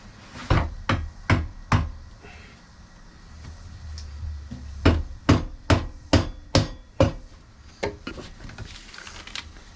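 A mallet taps an axle slider puck into place on a Honda Grom, striking in quick bursts of three to six sharp, close knocks separated by short pauses.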